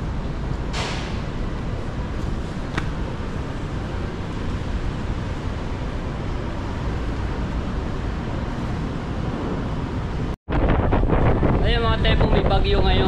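Strong, constant wind during a typhoon roaring and buffeting across the microphone, loud and unbroken, then a sudden cut to gustier, harsher blowing.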